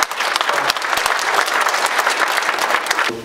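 Audience applause at a community panel meeting on wastewater and a salt marsh. Loud, dense, steady clapping fills the whole moment from start to finish, with no voices on top.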